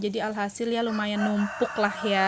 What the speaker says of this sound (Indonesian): itu mohon maaf suara kokokan ayam ikut masuk di dabingan